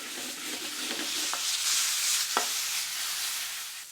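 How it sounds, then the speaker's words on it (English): Chopped garlic and green chili frying in a pan, a steady close hiss of sizzling oil with a couple of scraping stirs from a utensil, no voices over it. "add the green chili to the pan and mix the ingredients together"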